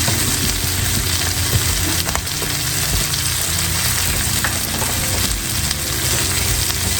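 Low-carb flour is stirred into short ribs frying in a pan, a loud, steady sizzle with occasional scraping from the utensil, close and continuous, no voices.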